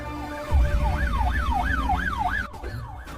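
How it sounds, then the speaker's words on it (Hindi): An ambulance siren wails close and loud in a rising and falling sweep, repeating steadily over engine rumble, with a sharp thud cutting in near the end. "ये तो पुलिस का सायरन है।"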